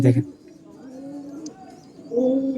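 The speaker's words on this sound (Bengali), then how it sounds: "একদম original pure magnet, magnet line পায়রা" Soft, low coos from Magnet line pigeons close by in a loft, a rolling throaty call repeated a couple of times, with a brief human sound at the start.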